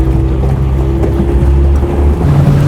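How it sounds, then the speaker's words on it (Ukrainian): A boat on a river carrying beekeepers out to apiaries on the islands, a steady low engine drone with water wash running close and continuous throughout. "Ми побачили перший човен на воді."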